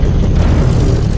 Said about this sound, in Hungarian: Pedig mint egy kicsit ismerős lenne a lövés-hang